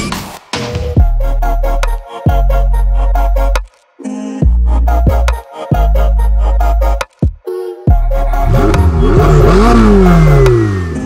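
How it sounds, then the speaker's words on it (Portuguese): A Lamborghini Gallardo Superleggera LP570-4 V10 engine, 570 horsepower, with a straight-through exhaust, revs hard in repeated loud bursts, rising to a scream and dropping back, ending with a rapid rev and crackle. "Lamborghini Gallardo Super Leggera"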